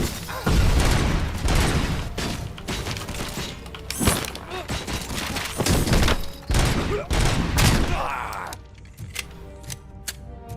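Bursts of rapid gunfire in a video game firefight crackle loudly and repeatedly, with sharp shots and grenade-like booms, some of them close, before the action thins to a few scattered reports near the end.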